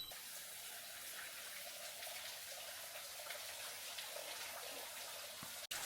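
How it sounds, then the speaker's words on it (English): Small trickling waterfall on a jungle trail in Krabi, Thailand during dry season, a faint steady rush of falling water heard alone, close and continuous. "We found the waterfall. It's a really small one, but I think it's really nice."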